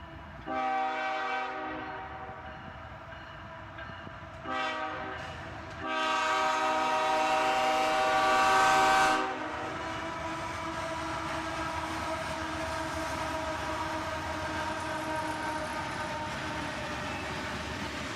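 Freight train led by two Canadian Pacific locomotives and one KCS locomotive passing close by, with horn blasts sounding over a steady rumble and rolling wheel noise that continues as the cars roll past.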